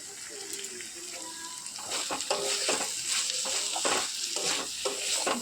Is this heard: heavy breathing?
no